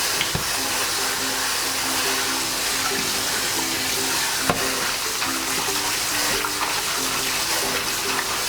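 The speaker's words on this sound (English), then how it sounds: "I'm going to rinse this udon noodles really well under running water" Udon noodles rinsed under a running kitchen tap while being rubbed, giving a steady close hiss of flowing water with faint handling clatter throughout.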